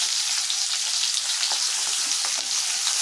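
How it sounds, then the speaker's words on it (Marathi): Thinly sliced onion frying in a pan, with a dense steady sizzle and small crackles and pops throughout, no voices. "आणि यात टाकायचा बारीक लांब कापून घेतलेला कांदा"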